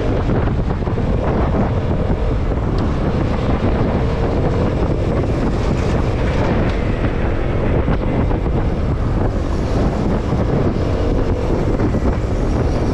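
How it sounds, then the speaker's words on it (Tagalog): Steady, strong afternoon wind buffeting the microphone at the Lucena City seawall, with a low continuous roar like surf or open water beneath it; no one speaks. "Hapon na kasi medyo mahangin na"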